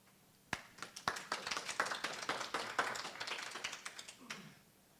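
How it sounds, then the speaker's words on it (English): A church congregation breaks into applause at a Sunday service: a dense burst of many hands clapping, starting sharply, holding steady for several seconds, then fading out near the end. "It's nice to be applauded before I even open my mouth"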